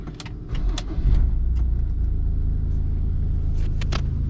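A car engine starts and settles into a steady low idle rumble at a fuel stop, with faint clicks and key jingles scattered over the continuous hum; no one speaks.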